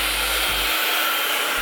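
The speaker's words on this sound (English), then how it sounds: "I'm going to take my blow dryer." A blow dryer blasts steadily at close range while straightening thick wig hair, its broadband roar constant throughout, with a low rumble that fades out partway through.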